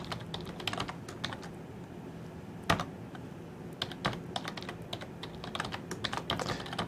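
Rapid keystrokes on a computer keyboard while entering login credentials, close and clear, with irregular bursts of clicks and one sharper louder press partway through, no speech.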